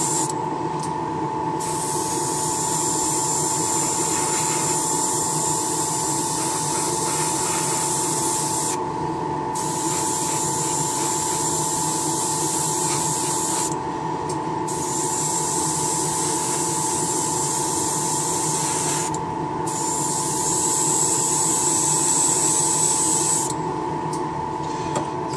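An airbrush sprays a colour coat onto a model kit, a steady close hiss running almost continuously with a few brief pauses between passes.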